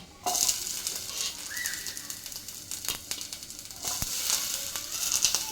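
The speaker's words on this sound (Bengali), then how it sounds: "পেঁয়াজটাকেও আমরা হালকা ফ্রাই করে নেবো এরকমভাবে।" Onion frying lightly in a pan over a low flame, a close, steady hiss with scattered pops and crackles, a few stirring clicks and a brief faint chirp-like tone in the background.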